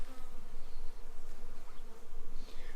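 Honeybees from a newly installed package buzzing around a beehive entrance, a dense continuous droning hum close to the listener with no voices.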